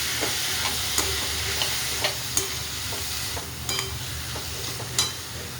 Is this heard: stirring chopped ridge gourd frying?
yes